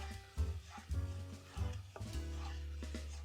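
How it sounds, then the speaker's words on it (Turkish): A wooden spoon stirs two-colour pudding with pomegranate sauce in a pot, soft repeated scraping and knocking strokes in an uneven rhythm, close and quiet, with no voices. "Şimdi tahta kaşıkla karıştırmaya devam ediyorum."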